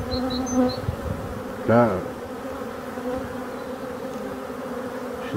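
Honeybees buzzing on the drone-brood frames of an opened hive, a dense close hum with individual bees zipping past the microphone, while someone speaks briefly in French over it.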